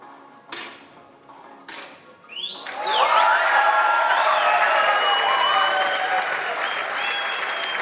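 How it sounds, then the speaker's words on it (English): An audience applauds after a strong shot in the men's 10m air rifle final at an ISSF Shooting World Cup in Bhopal, India. Two brief murmurs are followed by loud, sustained clapping from a large crowd, with whistles running through it. "Another strong shot by Patil, followed by a big clap from the audience"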